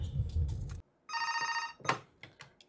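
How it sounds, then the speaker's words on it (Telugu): A telephone rings in a burst of bright electronic trills for under a second, with clattering room noise before and a sharp knock just after. "మేడం ఫోన్ చేసింది"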